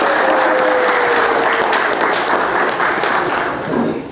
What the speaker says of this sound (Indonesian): Kita boleh tepuk tangan untuk Rans FC.